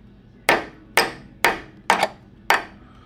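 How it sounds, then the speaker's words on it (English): A hammer striking a flare nut wrench on a rear brake fitting of a Subaru WRX during a Brembo brake upgrade: five sharp metallic taps in a steady rhythm, close and loud, with no talk. "Lefty loosey, put a hammer on it. Give a little bit of pop."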